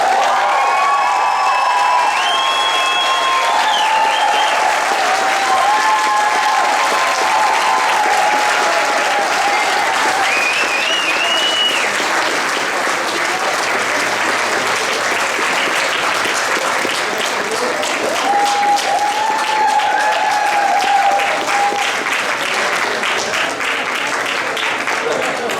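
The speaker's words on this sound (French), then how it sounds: "Une bonne main d'applaudissements encore pour nos 12 présidents." A crowd at a 50th anniversary celebration applauds in steady, sustained clapping that runs loud throughout, with a few cheers and voices mixed in.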